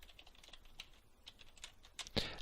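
Quick, close taps on a computer keyboard as a short phrase is typed in, a brief burst of clicks ending in a louder keystroke, with no voice.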